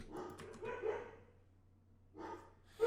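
Dogs barking in the fighting game Granblue Fantasy Versus, a few short bursts at the start and again near the end, moderately loud over the game's background with a gap between.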